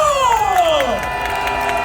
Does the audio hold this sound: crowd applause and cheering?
yes